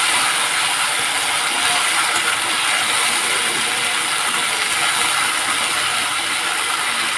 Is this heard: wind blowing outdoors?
no